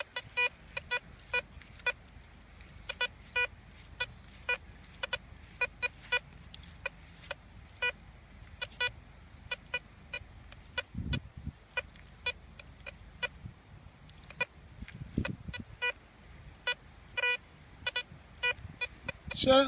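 A Nokta Fors Relic metal detector in deep mode at 90 sensitivity sounds off over a silver teaspoon about 19 inches down, a fast, steady run of short electronic beeps at the edge of its range, with some faint handling noise.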